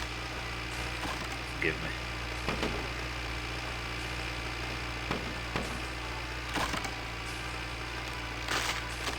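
A modded tractor engine in the game My Winter Car idles with a steady low rumble, and occasional clunks and knocks rise above it while someone speaks briefly.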